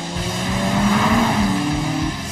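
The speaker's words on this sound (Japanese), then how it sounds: "いけ匠、全開走行だ" An anime Mazda RX-7 FD race car runs at full throttle, a short loud engine drone with a rising pitch and a faint tire squeal.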